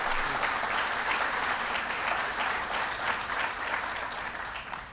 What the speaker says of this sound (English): give Joe Biden a big round of applause